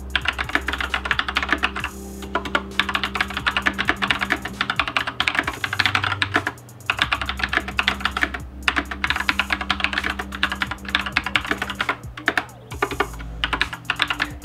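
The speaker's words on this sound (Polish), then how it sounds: "teraz posłuchajcie, jak ta klawiatura brzmi." Steady, fast typing on a Sharkoon Skiller Mech SGK2 mechanical keyboard with brown switches, dense clacky keystrokes running continuously for the whole stretch with only brief pauses, close and fairly loud with no talking.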